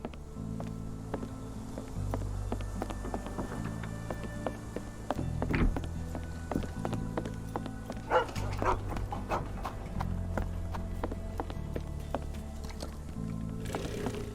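Dogs in the video game Sherlock Holmes The Awakened, faint barks and yips scattered over a steady low musical drone and ambient game sound, with no talk.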